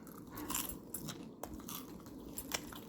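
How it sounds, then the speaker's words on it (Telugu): Close, crisp crunching and chewing as someone eats ragi dosa cooked without oil, with irregular bites and crackly snaps repeating steadily throughout. "దోశలు తింటున్నాను."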